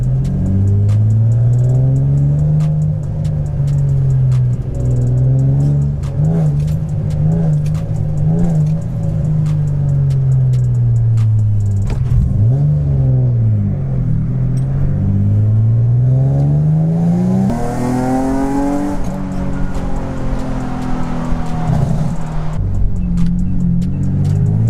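A car engine with the throttle floored, the diff and rear subframe shifting under load. It holds a loud, steady droning rev that rises and dips in pitch, continuous and close, with no talking.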